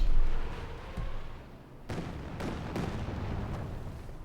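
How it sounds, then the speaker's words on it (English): Rocket artillery fire in the real-time strategy game Company of Heroes 2, a series of dull booms and bursts spread across the clip, with several sharp impacts in the second half over a low rumbling background. "the Fultons is routing them with some violent rocket fire there."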